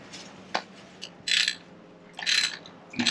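Ratchet working on the spark plugs of a Lincoln MKX, giving a few short clicking bursts: a single click, then a rapid ratcheting run, a pause and two more bursts, close and clear in a quiet garage.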